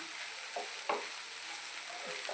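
Curry leaves frying in a hot pan at medium heat while being stirred, a steady crackling sizzle broken by a few scraping stirs, close and fairly quiet with no talk.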